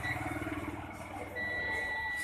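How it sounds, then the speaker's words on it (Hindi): A steady electronic continuity beep from a multimeter checking a satellite receiver circuit board for a short, a sustained tone heard close over low background noise. "यहाँ पे बीप आ रही है।"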